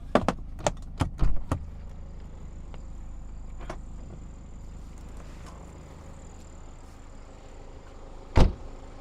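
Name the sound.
2018 BMW 328d xDrive Wagon engine running, very quiet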